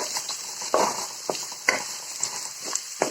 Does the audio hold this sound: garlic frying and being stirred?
yes